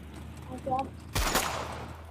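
In the mobile shooter game Project Bango, a brief voice gives way to a single sharp gunshot burst with a quick follow-up crack, all short and punchy.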